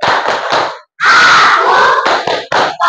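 A fifth-grade class of children performs a concentration clap: rhythmic bursts of group hand claps mixed with loud chanted voices, coming in quick, uneven groups with short pauses between them.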